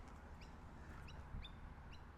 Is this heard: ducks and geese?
yes